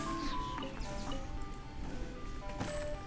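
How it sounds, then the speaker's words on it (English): An ice cream truck plays its jingle outside, a thin tinny melody of held notes under steady background noise. "They never had ice cream trucks where I lived before."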